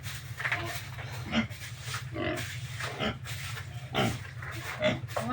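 Pigs in a backyard pen grunting and oinking repeatedly, close and fairly loud, with short irregular grunts over a steady low background hum.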